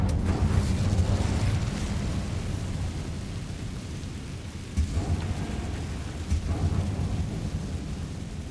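A fiery spell blast in Hogwarts Legacy erupts with a loud, rumbling whoosh at the start, then settles into a sustained roaring crackle, with two more bursting swells partway through.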